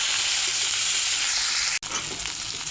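Fish rubbed with turmeric and salt sizzles steadily in hot oil, a dense continuous frying hiss with one brief dropout partway through, close and alone with no voices.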